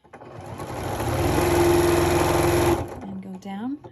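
A sewing machine stitches quilt fabric in a fast, loud, even whir that runs for about three seconds and then stops, and a voice speaks right after.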